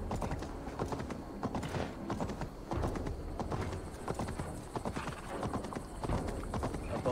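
Horse hooves clip-clop steadily and briskly on the ground in Assassin's Creed Valhalla, a dense rhythmic run of close hoofbeats lasting throughout, with a brief whinny-like sound mixed in.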